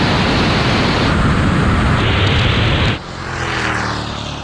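Drag-racing cars, an Audi and a Bentley among them, roar past at full throttle with a loud, broad rush of engine and wind noise that cuts off abruptly and then swells again as another car passes.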